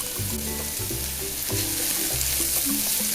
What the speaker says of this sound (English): Saute these ingredients until you can smell the wonderful garlic and ginger aroma.